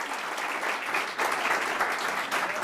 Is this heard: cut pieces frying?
no